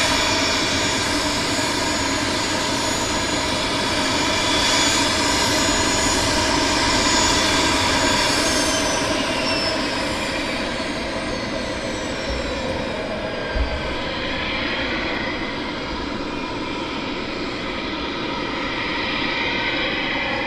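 A Eurofighter Typhoon jet departing from Southend Airport roars steadily for about twenty seconds, a loud sustained jet rumble with a rising whine that shifts in pitch as it passes, heard alone without talk.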